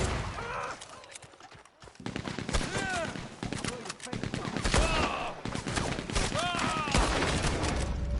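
Gunfire rings out in the Red Dead Redemption 2 Online video game: repeated loud shots and volleys fill the scene, with whistling, ricochet-like tones and someone talking over the action.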